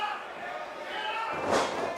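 At a live wrestling event at Southport Hall, a wrestler is slammed onto the ring mat with a dull thud under a commentator's ongoing talk and crowd noise.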